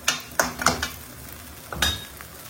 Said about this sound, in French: On va mélanger bien notre viande hachée.